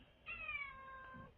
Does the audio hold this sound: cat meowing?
yes